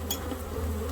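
Honeybees from a top bar hive buzz in a dense, steady drone as they are shaken into a box, a close, continuous hum with a brief rustling knock near the start.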